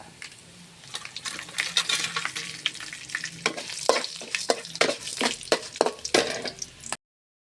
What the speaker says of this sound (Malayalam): അപ്പോൾ കടുക് പൊട്ടി